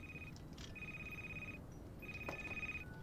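A telephone rings in the horror video game Crimson Snow, two electronic trilling rings separated by a brief pause over a low, rumbling ambient drone.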